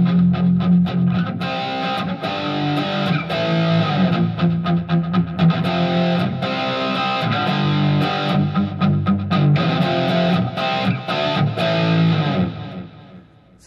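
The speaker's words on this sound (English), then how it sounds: "the untweaked distortion sound that this amp came with" Chords strummed on a Godin Telecaster with the humbucker bridge pickup, played through a Spark amp's stock distortion preset, ring out continuously for about fourteen seconds, loud and thick with rhythmic strums and no talking.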